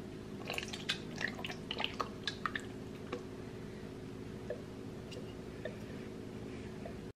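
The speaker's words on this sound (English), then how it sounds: "we're gonna pop the top off of this here salsa and drop it in" Jarred salsa is tipped from the jar into a crock pot during meal prep, making soft, wet squishes and small plops over a steady background hum, faint and close, with no talking.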